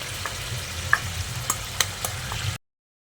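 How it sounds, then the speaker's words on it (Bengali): Potato and pumpkin pieces with sugar are stirred in a frying pan, a steady sizzle broken by a few sharp scrapes and taps of the spatula, close and alone. "চিনিটা দিয়ে আলু কুমড়োর সঙ্গে আবারও একবার ভালো করে নেড়ে চেড়ে মিশিয়ে নিচ্ছি"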